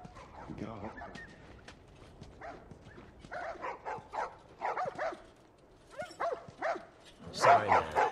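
Dogs in the PS3 video game The Last of Us bark in a string of sharp, repeated yips and woofs. Between the barks there are short gaps and lower background sounds, and a final loud burst of barking closes the clip.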